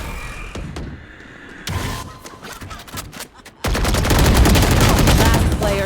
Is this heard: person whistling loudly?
no